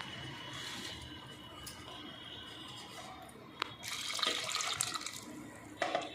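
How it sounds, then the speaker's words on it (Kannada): About four glasses of water are poured into a pot for Mangalore cucumber sambar: a faint background trickle that becomes a louder splashing pour partway through, with a brief clink and no talk. "ನೀರು ಅಷ್ಟು ಬೆರೆಸಾಗಿದೆ."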